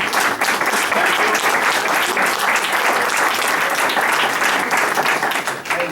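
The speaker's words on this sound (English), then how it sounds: "give a round of applause." An audience at a council meeting claps steadily and loudly, a dense, continuous wash of applause that holds for several seconds before easing slightly at the end.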